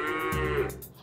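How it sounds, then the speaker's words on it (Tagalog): Cow mooing, presented as a cow giving birth, a single drawn-out low moo with a rising then falling pitch, close and clear, alone with no talk. "Letter A, tunog ng bakang nanganganak."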